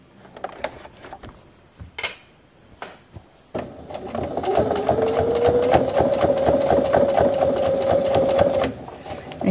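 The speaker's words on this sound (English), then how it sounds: "I'm just going to sew to just where I am about a quarter inch away from my corner" A sewing machine stitches fabric for a folded star pot holder, starting with a few short back-stitch bursts, then a steady close whirring run of rapid needle strokes that stops near the end.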